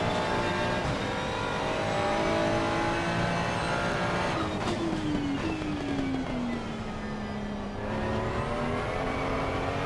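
Race car engine on the gas in Assetto Corsa Competizione, an AMG, BMW M4 or Porsche 992 at Oulton Park or Spa, a loud continuous roar with rising and falling revs through gear changes.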